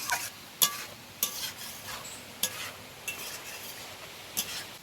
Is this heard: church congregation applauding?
no